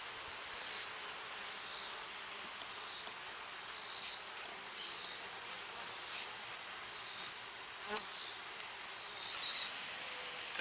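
Honeybee swarm captured a week earlier and housed in a hive box, giving a steady dense buzz that stays even and close throughout, with a faint soft knock near the end.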